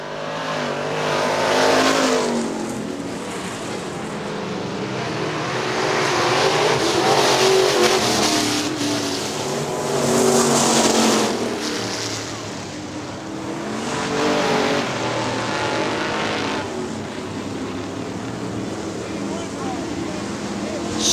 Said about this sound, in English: Jim Abbott gonna win it out of turn 4, taking the checkered flag